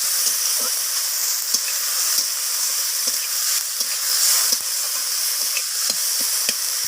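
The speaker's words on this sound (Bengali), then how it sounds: "তো আমি ফোড়নের সাথে টমেটোটাকেও ভাজা ভাজা করে নিচ্ছি।" Tomatoes fry with tempering spices in a pan with a loud, steady sizzle, broken by occasional scraping taps of a spoon stirring; no voices.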